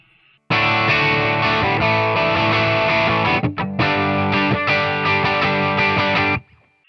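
Electric guitar through a screamer overdrive pedal chugs loudly and continuously for several seconds with a gritty, saturated tone, a brief break midway, then stops abruptly.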